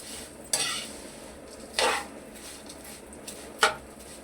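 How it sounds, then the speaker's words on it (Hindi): Vermicelli fries in a pan over low heat with a quiet background sizzle, broken by three separate scraping strokes of a utensil against the pan, and no voices. "उसके बाद हल्की आंच पे हमने इसको फ्राई करना।"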